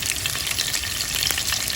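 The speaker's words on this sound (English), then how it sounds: "now we're gonna fry up our meatballs" Meatballs fry in hot ghee, clarified butter, giving a dense, continuous crackling sizzle with faint pops, close and loud, with no voices.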